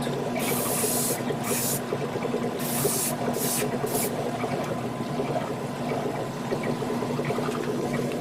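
An airbrush or spray can puts a coat of paint on a Hasegawa 1/72 model kit in short hissing bursts, several in quick succession, over a steady background hum.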